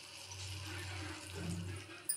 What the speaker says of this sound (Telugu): వాటర్ వేసుకుందాం.